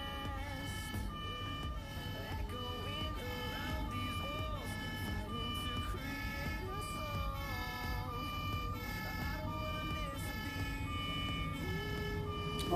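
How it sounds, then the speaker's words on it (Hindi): Toy fire truck from Hamleys, made in Germany, playing an electronic police siren effect, a steady looping wail with beeping tones that runs continuously at moderate loudness, with no speech over it. "पुलिस की जैसे जीप की आवाज़ आती है तो वैसे ही इसमें पुलिस वाला अलग से दे रखा है।"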